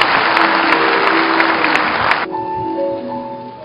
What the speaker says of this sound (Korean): 한 박수로 축하해 주시기 바랍니다.